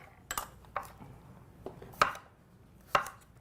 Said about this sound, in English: Look at this slicing and dicing going on.